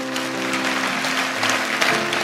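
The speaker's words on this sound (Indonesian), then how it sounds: "Kasih tepuk tangan untuk Tuhan." A church congregation claps for God during a devotional sermon, a brief steady patter of applause under a sustained organ or keyboard chord.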